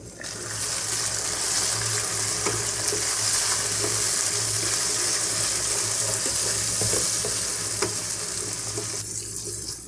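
Onions and tomatoes fry in a pan with a loud, continuous sizzle, broken by scattered stirring clinks and scrapes. The sound stays close and steady throughout, and no one speaks.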